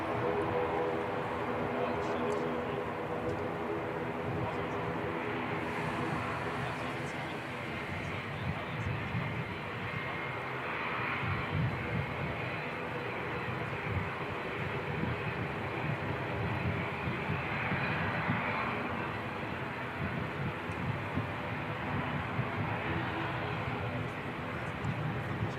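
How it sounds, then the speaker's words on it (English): Jetstar airliner pushing back at Christchurch Airport, a steady distant engine drone with a low rumble and wind noise, holding fairly constant throughout with a voice talking over it. "Jetstar 246 pushing back."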